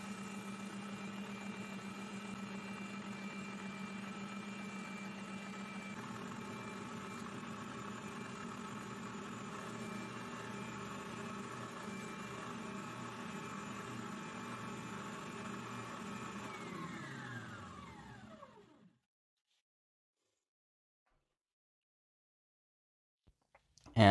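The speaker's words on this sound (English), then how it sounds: "I'm just going to sand the two halves even at the spindle sander" A spindle sander runs steadily while smoothing two glued wooden knife-handle halves. Its motor hums loud and continuous for about seventeen seconds, then winds down and falls silent.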